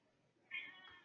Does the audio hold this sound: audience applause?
no